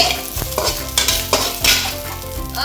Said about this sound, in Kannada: ಮಸಾಲೆ ಎಲ್ಲ ಹುರಿತಿದ್ದಾರೆ ನೋಡಿ